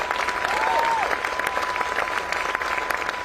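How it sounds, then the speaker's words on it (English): Audience clapping at a political conference in Belen, a dense round of applause for honored guests, steady and fairly loud with a brief whistle-like tone early on, no speech over it. "we could give them a round of applause"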